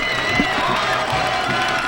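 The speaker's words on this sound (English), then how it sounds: "every person is on their feet here on the Placer side, applauding their team as they come off" Football crowd on the Placer side at a 2008 high school game at Dixon Rams Stadium cheering and applauding at halftime, a dense continuous roar of voices and clapping from the stands.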